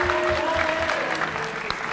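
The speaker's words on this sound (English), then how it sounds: "So give yourself a round of applause." Audience applause at a school pageant, a dense steady patter of many hands clapping at full volume, with a brief voice heard over it.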